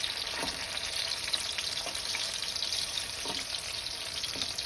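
Gram flour dry-roasting in a pan over a medium flame gives a steady, close hiss, with soft scrapes of stirring breaking through every second or so.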